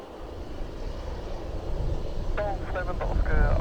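A Leonardo AW139 helicopter on final approach to land at Norwich Airport, heard as a steady rotor and engine roar that swells louder toward the end, with a voice briefly talking over it.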